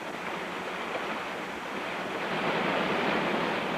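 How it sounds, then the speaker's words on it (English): Pounding ocean waves crash against a rocky seashore in a steady, dense roar of surf that swells slightly louder toward the end, with no voices. "Pounding waves can turn the seashore into one of the most demanding environments on Earth."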